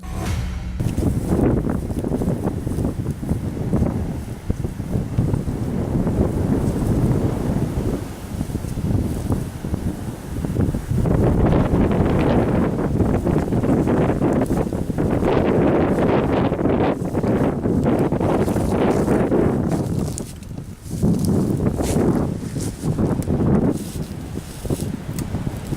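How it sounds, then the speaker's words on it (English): Strong wind gusts buffet the microphone outdoors during a South Dakota archery deer hunt, a loud continuous roar that swells and eases in waves over nearly half a minute, with no voices. "The wind started to pick up"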